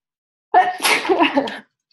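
A single loud, close sneeze bursts out sharply, then the room falls silent.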